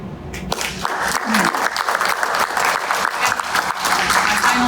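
An audience at an academic awards banquet claps in a sustained round of applause, dense and fairly close, with some crowd murmur mixed in.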